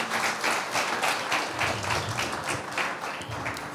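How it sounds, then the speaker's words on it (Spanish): An audience at a Christian podcast gathering claps steadily and fairly loudly for a few seconds, a dense, even wash of applause with no talking. "Un fuerte aplauso para Ricardo, para Miguel Ángel y Angie."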